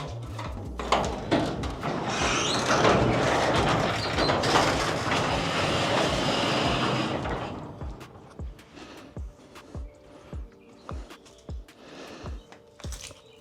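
A garage door rumbles and rattles open for several seconds, then the noise gives way to a series of evenly spaced mechanical clicks that gradually fade.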